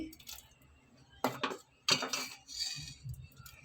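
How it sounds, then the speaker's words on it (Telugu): Cooked dal mashed lightly with a masher in a metal pot, making a few sharp clanks and scraping knocks in irregular bursts against a quiet kitchen background, close by, with no voices. "పప్పు గుత్తో లైట్గా మెదుపుకోండి"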